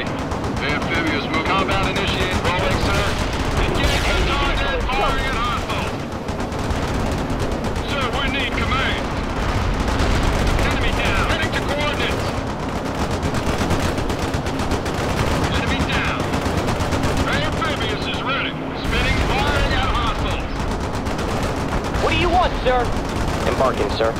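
Battlefield gunfire from units in the real-time strategy game World in Conflict, Soviet Assault, keeps up a dense, loud stream of machine gun bursts and shots, with radio-style unit voices speaking over it.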